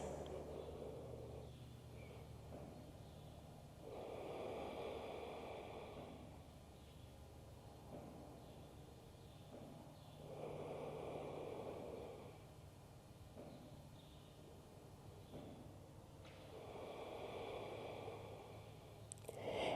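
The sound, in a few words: deep breathing during yoga stretch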